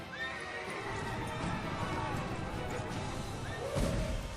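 A horse whinnies and its hooves clip-clop, with a sharp neigh near the start and another toward the end over steady, fairly close hoofbeats.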